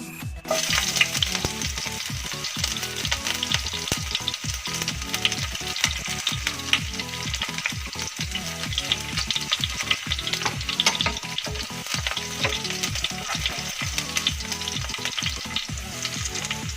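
Garlic and shallots fry in hot oil for Acehnese shrimp fried noodles, a loud continuous sizzle with dense crackling and rhythmic stirring scrapes, no voices.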